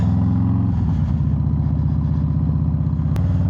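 A 2022 Harley-Davidson Low Rider S V-twin rumbles loudly and close, holding a deep, steady throb with a brief blip of throttle early on and no voices.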